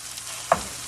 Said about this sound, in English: Hear the sound of that sizzle.